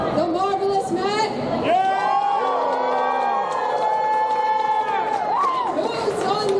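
Crowd at a Fan Expo Toronto 2023 knight fight show cheering and whooping loudly, sustained voices and shouts filling the space throughout.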